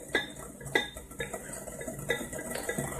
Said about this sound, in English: So I'm going to whisk that together.